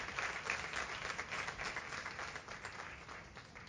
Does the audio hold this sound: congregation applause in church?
yes